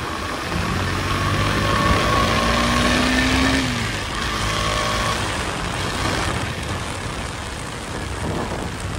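A KTM Duke motorcycle engine revving up in second gear with rising pitch, then easing off and pulling again, loud and close with constant background rumble.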